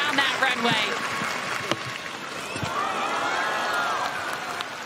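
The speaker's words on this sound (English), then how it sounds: "you can hear the crowd cheering her on down that runway" A stadium crowd at the Kobe 2024 Para Athletics World Championships cheers a female long jumper down the runway, a steady, dense roar of many voices that holds for the whole stretch, with occasional brighter shouts rising out of it.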